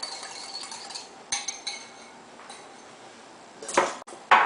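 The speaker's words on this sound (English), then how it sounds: "One last little whisk." A whisk scrapes and clinks against a bowl while salad dressing is mixed, quiet rapid strokes building to a few sharper metallic taps near the end.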